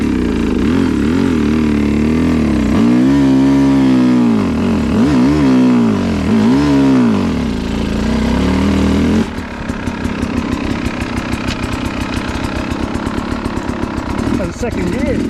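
A motorcycle engine revs and bogs in surging swells while pulling away on a hill in second gear, then settles into a rougher, choppier idle-like drone, fairly close and loud.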